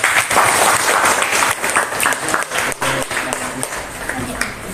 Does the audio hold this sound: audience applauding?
yes